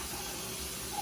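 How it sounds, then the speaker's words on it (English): Tap water runs steadily into a crock being filled for an overnight chicken stock, a continuous close hiss and gurgle of pouring water with no talk. "all I'm gonna do is fill the crock up"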